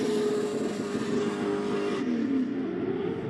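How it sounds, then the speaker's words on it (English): A Nissan 350Z drift car at a pro drift qualifying event holds a loud, steady high-rev engine drone, bouncing off the rev limiter; the note shifts slightly partway through, heard from a distance with no talking. "Bouncing it off the rev limiter here."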